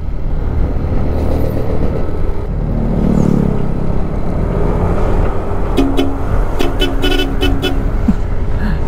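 Heavy trucks and other traffic roll past on a dusty highway under construction, a continuous loud rumble of engines and tires, with a few car horns sounding near the end.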